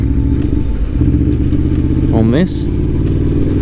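A 2021 Aprilia Tuono V4 Factory motorcycle's engine runs loud and steady in second gear, with a quick rising rev and a quick-shift blip, while someone talks over it.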